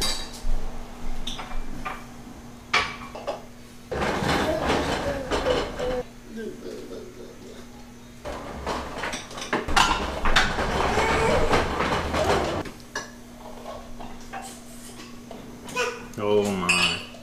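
Plates and cutlery clink and scrape as steaks, Japanese A5 Wagyu among them, are plated with asparagus, corn and mushrooms, in short bursts of close clattering separated by quieter gaps.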